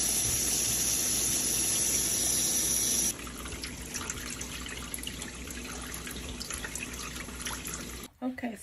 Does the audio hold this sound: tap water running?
yes